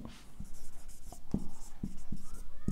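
Pen writing by hand on paper, a steady close scratching with small taps as strokes begin, while a voice talks faintly in the background.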